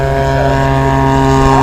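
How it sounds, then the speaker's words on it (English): A large RC Kingfisher model float plane drones past on a low pass, its engine a loud, steady buzz with a rich harmonic whine, close and continuous. "And here's the big Kingfisher coming across for a low pass."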